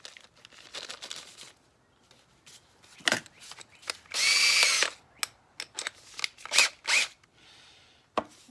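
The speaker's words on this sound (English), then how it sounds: "So, first thing, gotta drill a hole." Short bursts of a power drill whirring, one longer sustained run in the middle, interspersed with clicks and handling noises in a quiet room.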